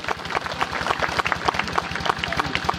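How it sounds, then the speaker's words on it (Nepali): Crowd applause welcoming guests at a Tharu Bhagoriya gathering: a dense, steady patter of many hands clapping together, fairly loud and sustained throughout. "ताली बजा के स्वागत करी।"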